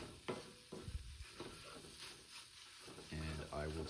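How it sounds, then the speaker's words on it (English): Food is stirred in a frying pan over low heat, with soft scraping strokes and a faint sizzle, fairly quiet and close. "stir it a little bit more"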